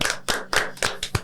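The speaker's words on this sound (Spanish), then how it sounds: "Vamos a darle un aplauso" Audience applause at the start of a Spanish-language Bible debate show: a short burst of about five crisp, evenly spaced hand claps, close and fairly loud, with no talking.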